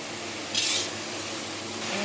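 Shredded round cabbage stir frying in a hot pan as its moisture cooks off, a steady soft sizzle with a brief louder burst of stirring scrape near the middle.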